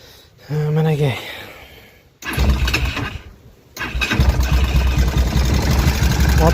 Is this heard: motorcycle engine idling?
yes